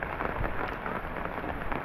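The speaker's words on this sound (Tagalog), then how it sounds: "Ulan." Steady rain falls on a slippery road, a dense, even wash of noise that holds loud and close for the whole stretch, with no talk over it.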